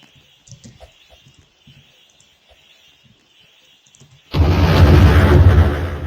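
A loud bomb blast in the Roblox video game erupts suddenly after quiet, faint game clicks and chirps, then rumbles on at full strength to the end.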